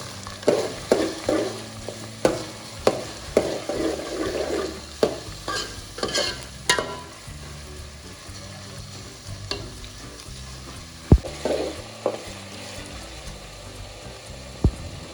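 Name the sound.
eggplant bharta cooking in a pan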